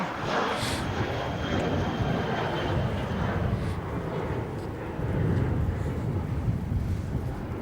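A jet airliner at Melbourne Airport rolls and takes off from runway 16, a broad, steady engine roar mixed with wind buffeting on the microphone, heard from a distance and sustained throughout.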